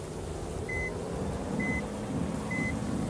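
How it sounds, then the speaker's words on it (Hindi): Reversing beeps from a Toyota Innova Crysta put in reverse gear in the Bus Simulator Indonesia game: three evenly spaced, clean electronic beeps over a low, steady engine rumble, with no talking. "इसको हमने रिवर्स गियर में डाला"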